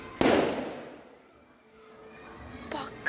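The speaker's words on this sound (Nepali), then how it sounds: "भर्खरै पटेका पड्का हेर्नु न धुलो निक्लेको हो" Firecrackers burst during a Nepali festival night: one loud close bang opening the moment, its echo fading slowly, then a second sharper crack near the end.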